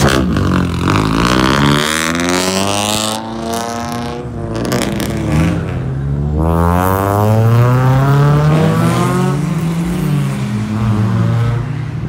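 A ProCharged supercharged V6 Ford Mustang roars loud and close, its engine revving and sweeping up and down in pitch with the whine of the supercharger layered over the exhaust throughout.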